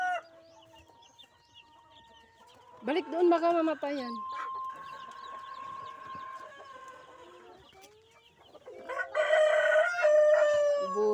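Heritage-breed chickens on a Mindanao farm cluck and crow close by, with two loud, drawn-out crows rising over steady clucking while someone speaks briefly at the start.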